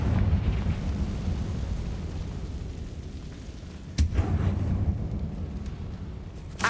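A Confringo blasting spell in Hogwarts Legacy lands as one sharp explosive boom over a low rumbling background, followed by a deep rolling tail.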